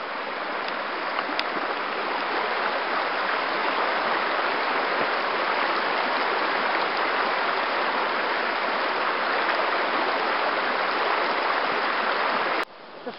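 A small river stream rushes over rocks in a steady, full wash of water noise, close and constant for the whole stretch before cutting off abruptly at the end, with no talking.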